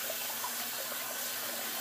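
Tap water running steadily to wet a synthetic shaving brush at a sink, a soft, even hiss with no talk.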